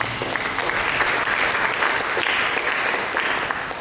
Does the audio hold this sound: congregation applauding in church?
yes